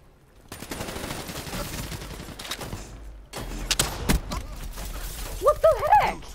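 Rapid gunfire bursts and a blast ring out in the shooter game Call of Duty: Black Ops III, loud crackling fusillades with shattering debris and a player speaking over the action.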